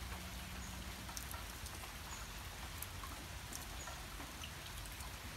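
Soft, steady rain patters down on a surface, an even hiss of drops with no voices.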